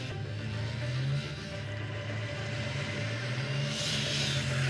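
A Ducati motorcycle weaves through traffic in a movie chase, its engine a steady mid-pitched drone with rising revs, accompanied by surrounding car noise and no talking.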